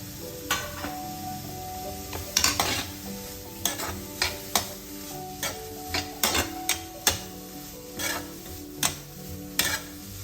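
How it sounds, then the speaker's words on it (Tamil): Shredded cabbage for vegetable spring rolls is tossed and stirred in a hot pan, giving soft sizzling under a string of sharp utensil taps and scrapes, with no talking. "இந்த முட்டைக்கோசை போடணும்"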